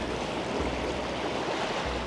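Seawater on a rocky shore draining into a gap, a continuous rushing wash of water with low surges, steady and fairly close.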